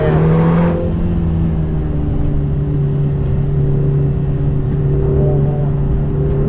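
A Lotus Emira 2.0 holds speed through a corner on a foggy winding road, its engine a steady, close droning hum with a brief brighter burst at the start before settling into an even tone.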